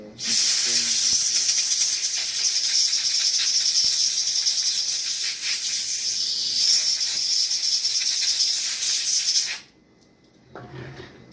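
A can of compressed air duster sprays in one long continuous hiss close up while cleaning corrosion from a Cambium Medusa radio during a repair, cutting off abruptly near the end, followed by a brief faint noise.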